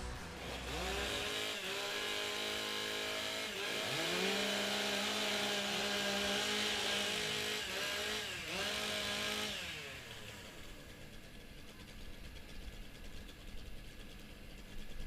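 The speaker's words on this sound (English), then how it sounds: "Warm up your saws." Several chainsaws rev and whine loudly together at a timber sports competition, with rising and falling engine pitches for about nine seconds before dropping back to a rougher idle and crowd ambience.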